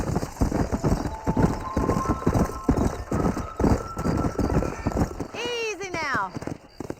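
A horse galloping in the video game Red Dead Redemption, steady rhythmic hoofbeats under continuous talk, ending with a neigh.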